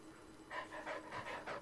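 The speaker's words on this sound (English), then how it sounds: "Yeah, you can pet the dog." A dog in the Blair Witch game pants quietly and close by in a steady run of five or six quick breaths, with no other sounds around it.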